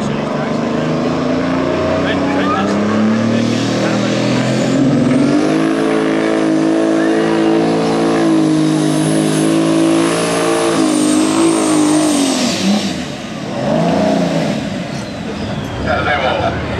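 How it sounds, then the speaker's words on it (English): A V12 Detroit diesel big rig truck making a full pull at a truck-pulling event, loud sustained engine roar with rising and falling pitch as it strains, dipping briefly near the end, with a commentator talking over it. "Lindsey had a full pull. V12 Detroit diesel."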